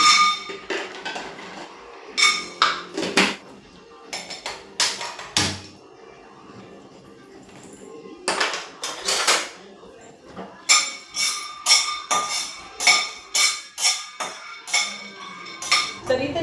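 Peanuts dry-roasting in a pan rattle in bursts of clattering metallic scrapes and clinks as they are stirred, with quiet gaps between the rounds of stirring.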